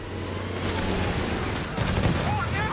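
Battle gunfire from the video game Company of Heroes 3, set in the Italian campaign: a dense, continuous fusillade of overlapping shots and booms, loud and sustained, with voices shouting over the combat.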